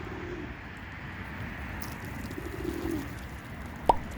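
Racing homing pigeons in their loft give soft, low coos against a steady background hum, with a brief sharp chirp near the end; no one speaks.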